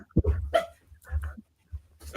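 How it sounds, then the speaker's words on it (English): A dog growling and grumbling in short low bursts, close by, with brief yips mixed in among quiet gaps. "She's growling at his boyfriend."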